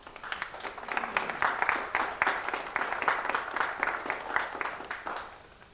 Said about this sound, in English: you don't have to clap after each of the poems